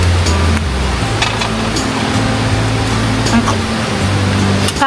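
Flowing river water beside a quiet campsite between Real, Quezon and Siniloan, Laguna: a steady broadband rush runs through the whole stretch, with a low hum in the background.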